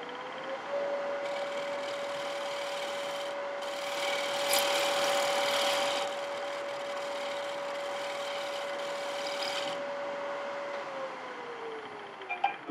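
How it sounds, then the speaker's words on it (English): A wood lathe spins a turned plate with a steady whining hum, while a tool scrapes and rasps against the wood, growing louder midway and then easing as the motor winds down. "Wait till the lathe stops."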